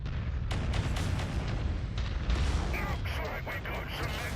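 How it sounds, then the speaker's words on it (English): A missile explosion in the mech combat game MechWarrior 5 booms and rumbles continuously for several seconds, loud and heavy, with some crackling bursts and a voice speaking underneath. "Oh, that was a great explosion."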